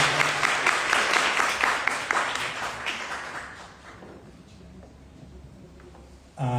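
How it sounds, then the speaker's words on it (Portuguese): Audience applause for two librarians at a history meeting, a dense burst of clapping that is loud at first and fades over the next few seconds, leaving a quiet room before a voice cuts in at the very end. "Uma salva de palmas para essas duas bibliotecárias."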